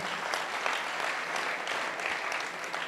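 Crowd at a Dussehra fair applauding a poet, a steady, even roar of many clapping hands held at one level throughout, moderately distant.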